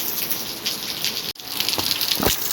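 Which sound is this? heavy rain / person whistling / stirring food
heavy rain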